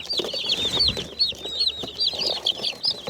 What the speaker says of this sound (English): we have 20 Cornish cross, which are meat birds